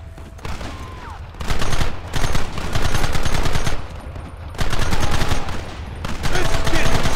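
Heavy gunfire erupts in a Red Dead Redemption shootout, rapid bursts of loud rifle and pistol shots clustered in dense volleys separated by short lulls, close and overwhelming throughout.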